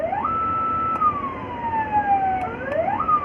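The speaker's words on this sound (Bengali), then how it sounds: "এই গাড়িতে এটা হচ্ছে এক্সট্রা ভিআইপি হর্ন।" A car's extra VIP horn gives a loud, close, siren-like electronic tone that holds steady, glides down, then sweeps back up, with no other sound over it.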